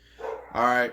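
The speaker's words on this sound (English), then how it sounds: "Sorry for the dogs." A small dog yips and barks twice in quick succession, close and fairly loud, while someone talks over it.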